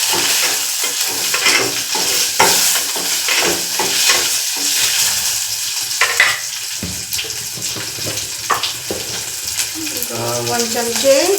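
Mustard seeds, cumin and onion fry in hot oil in a pan, giving a steady close sizzle with scattered crackles and stirring scrapes throughout.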